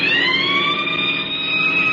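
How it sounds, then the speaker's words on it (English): Police car siren in an old-time radio drama, Chick Carter, Boy Detective, as the car races toward the dock area of World City: a loud, sustained wailing tone that drifts slowly in pitch, heard alone without talk. "Cut the siren."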